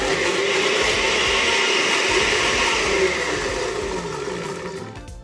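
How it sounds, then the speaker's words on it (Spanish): Blender grinding cooked beetroot with its cooking water, a loud steady whirring roar that holds for several seconds before easing off slightly at the end, with no voices. "Aquí ya tenemos en la licuadora el betabel con los 165 mililitros de agua"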